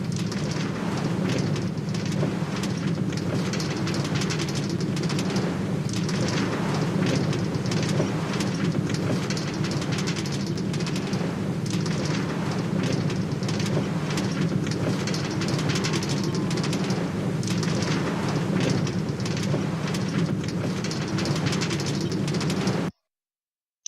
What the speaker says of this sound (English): I'm not going to talk over it because I know how loud the railroad is